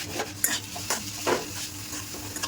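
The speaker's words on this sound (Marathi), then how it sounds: "मस्त तेलामध्ये फ्राय करून घ्यायचा" Eggs frying in hot oil with turmeric, masala and salt, stirred with a spatula that gives a few scraping clinks against the pan over a steady close sizzle.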